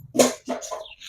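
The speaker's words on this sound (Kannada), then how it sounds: "ಬ್ರೀಡ್ ಇದು ನಾಟಿ ಕೋಳಿ ಇದೆ" A native country chicken gives a quick run of three short, close clucking calls, the first the loudest, with no voices around.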